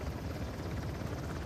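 A helicopter in the video game Uncharted: The Lost Legacy churns with a rapid, even rotor pulse over a low engine hum, moderately loud and continuous, no talk over it.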